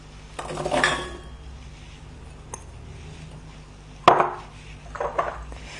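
Three chopped apples tumble into a heavy-based saucepan, producing two clattering bursts of fruit striking metal with cutlery clinks, near and clear with quiet gaps between.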